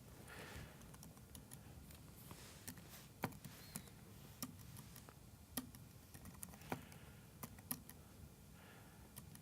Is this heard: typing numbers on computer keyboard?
yes